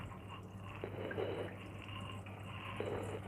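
Water trickles and drips quietly as it drains from a cooking pot of jareesh (cracked wheat), with a low steady hum behind it.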